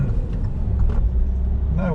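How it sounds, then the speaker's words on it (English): A car pulling away from a junction and gently accelerating up to a 30 mph limit, a steady low engine rumble that ends with a rising whine. "nice and gently accelerating up to the speed limit of 30 miles an hour"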